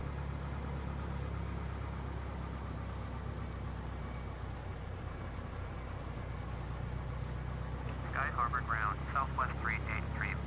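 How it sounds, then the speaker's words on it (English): A piston aircraft engine in the Prepar3D flight simulator runs steadily as its mixture is leaned toward roughness, a constant low drone throughout, with a voice talking briefly over it near the end. "Let's go ahead and lean this out for now so we don't foul up our plugs. Gonna go back until the engine gets rough."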